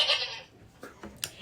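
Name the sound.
goats bleating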